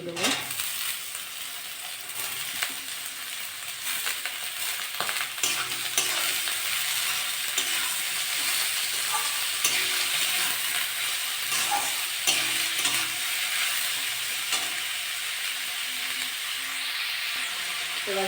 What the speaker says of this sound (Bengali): আমি এবার আলুগুলো দিয়ে দেবো।